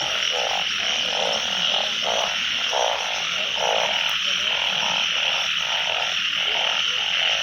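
Frogs croak in a steady rhythmic chorus during rainy-night frog hunting in rural Thailand, with repeated pulsing calls over a constant hiss of rain and insects.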